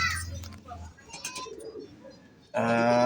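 Pigeons coo softly amid faint background rustling and noise, then a loud burst of sound cuts in near the end.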